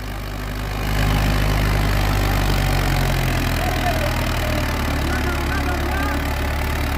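Arjun 605 tractor engine running steadily with a deep, loud low rumble that swells after the first second and holds; voices are faintly present over it.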